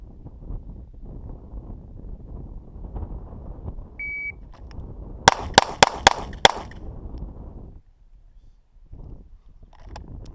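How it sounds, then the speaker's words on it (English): A SIG P320 pistol fires five rapid, loud shots in quick succession on an outdoor range, preceded by a short timer beep, with wind noise around them. "we're gonna deliver 4 rounds to the body and 1 round to the head"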